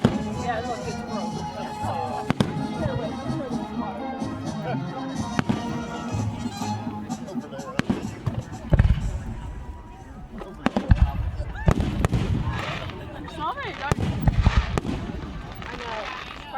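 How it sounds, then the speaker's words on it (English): Daytime fireworks pop and crackle in scattered bursts, some louder booms among lighter cracks at a moderate distance. People talk throughout. "Fireworks just aren't the same when it's daylight out."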